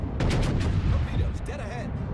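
Heavy naval guns boom in a World of Warships battle against a battleship, a loud rumbling salvo of overlapping blasts close by, with someone talking faintly over the din.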